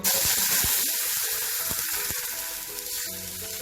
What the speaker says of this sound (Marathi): मोहरी तडतडली